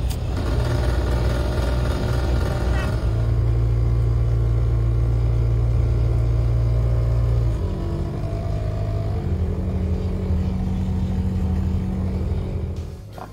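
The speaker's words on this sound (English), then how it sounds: "I'm thinking that's definitely a blower motor." Car air conditioning blower motor with a suspected bad bearing or something striking the squirrel cage, a steady loud droning whir with rattly clatter that shifts pitch partway through and fades at the end.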